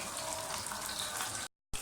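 Chicken tikka sizzling and frying in a pan over medium heat, a steady dense crackle close by with no talk, cut by a short silent gap near the end.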